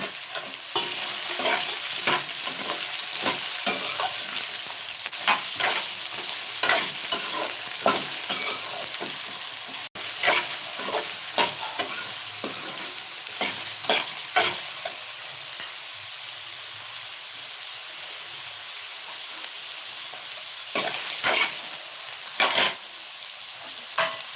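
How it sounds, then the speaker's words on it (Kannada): Ridge gourd pieces stir-fry in a pan for a Karnataka-style palya, giving a steady close sizzle throughout, broken by frequent scraping and clattering strokes of the stirring spoon, with no voices. "ಇದು ಸ್ವಲ್ಪ ಫ್ರೈ ಆಗಬೇಕು"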